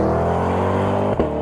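A 2021 Corvette C8 convertible on the road in England gives a brief, steady, loud engine drone heard up close, with a small bump near the end.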